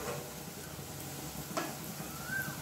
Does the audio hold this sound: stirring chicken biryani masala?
yes